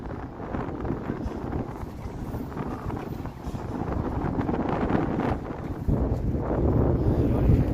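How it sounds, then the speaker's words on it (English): Strong, unrelenting wind buffets the microphone along the Toronto waterfront, a constant loud rumble that swells and gusts throughout, with no voices heard. "This wind is just unrelenting here."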